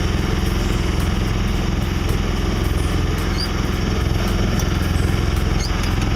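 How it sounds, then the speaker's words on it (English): A sailboat's engine drones steadily with a rapid, even throb, running continuously at a constant speed on Lake Michigan, with no voices. "Engine's been running strong since I bled the air out of it."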